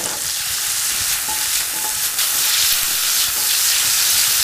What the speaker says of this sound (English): Let it saute and simmer and pop for a few minutes.